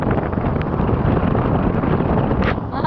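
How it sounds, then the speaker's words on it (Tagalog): Strong wind buffets a phone's microphone outdoors, a loud, continuous roaring rumble with gusty fluctuations that persists for the whole stretch without speech. "Mahangin po."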